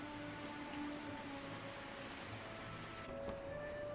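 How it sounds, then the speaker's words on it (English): Rain falling outdoors, heard from indoors as a steady, even hiss of drops with faint low rumbling underneath, continuous and moderately quiet, no voices. "And now we can hear the rain, the outside rain."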